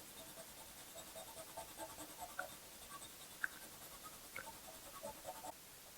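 6B charcoal pencil drawing on paper under light pressure, faint close scratchy strokes in short irregular bursts in a quiet room.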